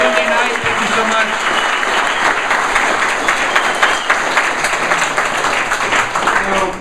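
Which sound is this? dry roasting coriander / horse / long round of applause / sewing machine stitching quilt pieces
long round of applause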